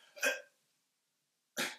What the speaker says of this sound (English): I think of the support as being a cough, but hold the cough